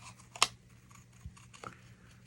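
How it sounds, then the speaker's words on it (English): Scissors give a single crisp snip while cutting out a small paper sentiment for a card. A faint click and a rustle follow, close and quiet, with no talk. "sort of snip out fairly close because I want it fairly small."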